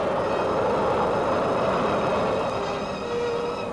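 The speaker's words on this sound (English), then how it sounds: "The rocket is now 1 mile up. Its sound is still deafening to the ear." A V-2 rocket roars in flight about a mile up after launch, a loud, steady, broadband rumbling roar that holds without a break.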